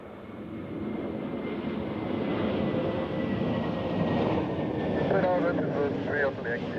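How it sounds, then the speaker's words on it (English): An Airbus A321neo airliner on approach to Zurich Airport in crosswinds gives a continuous, loud engine roar that builds slightly, with air-traffic radio talk heard over it. "It's an A321 Neo from Naples."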